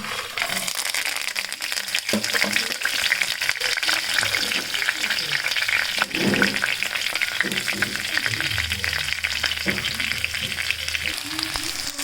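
A tempering of asafoetida, soaked urad and chana dal, and ginger paste fries in hot oil with a loud steady crackling sizzle, close up, with occasional stirring scrapes and a faint low hum near the end.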